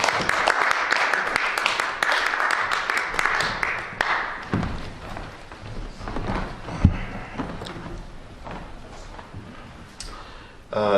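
An audience at a Hudson Valley poetry reading applauds a poet, a dense patter of clapping for about four seconds before a voice takes over and talk continues with faint scattered taps.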